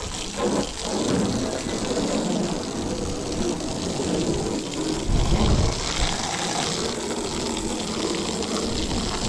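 Steady hissing water spray from a hose washing a Honda Civic Type R outdoors, continuous and fairly close, with a brief heavier splash midway.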